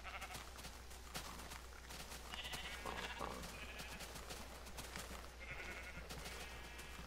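A flock of sheep in the Minecraft video game gives repeated nasal bleats, some overlapping, near and clear above a constant low background drone, with nobody speaking.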